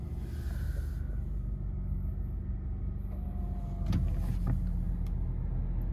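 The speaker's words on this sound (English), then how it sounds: "Quickly foot on the brake and push to start" A 2016 Nissan Qashqai with about 91,000 km is started with its push-button start. A quiet cabin hum is broken by a short starter burst, and then the engine settles into a low, steady idle.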